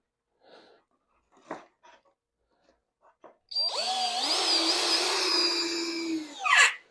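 A power drill drives a screw into the wooden framing of a model railroad layout bench, a loud whining run of several seconds after a few faint knocks, ending in a sharp burst.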